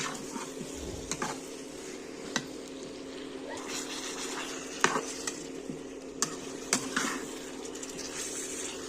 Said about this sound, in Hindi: फ्राई करते रहना हमें।